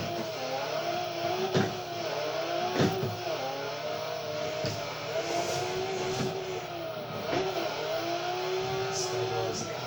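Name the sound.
car driving and drifting in Forza video game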